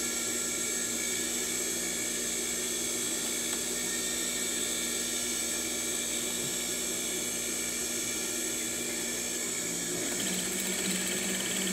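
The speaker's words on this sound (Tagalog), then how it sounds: "kinontrol ko yon sa paa ko, yung pagsisikad ko sa makina" A foot-pedaled sewing machine runs steadily, a continuous tonal mechanical whir with a sustained high hum, even and unbroken for about twelve seconds with no talk.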